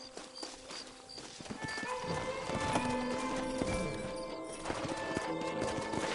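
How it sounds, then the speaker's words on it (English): Rhythmic hoofbeats of horses clip-clopping along with occasional whinnies, layered over a busy, steady background, in the video game Red Dead Redemption. "Horses are over here!"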